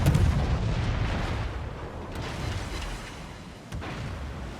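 Heavy naval gun salvos boom and rumble in a warship battle game aimed at the Yamato, a loud opening blast fading into a long low roar with a later distant report.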